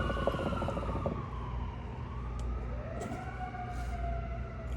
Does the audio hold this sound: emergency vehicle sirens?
yes